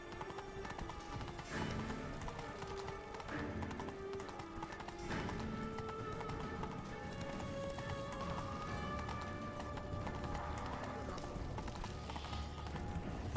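Hoofbeats of Roach, a horse in a video game, clopping at a steady running pace under continuous game music and ambient sound, with no other sounds standing out.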